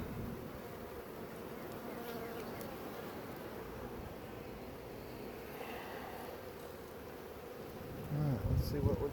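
Dense, continuous low buzz of a swarm of honey bees, steady and close, swelling louder near the end.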